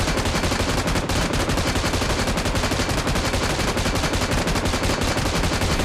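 An M249 machine gun fires nonstop in the BGMI game, a dense, loud rapid burst that runs unbroken from start to finish.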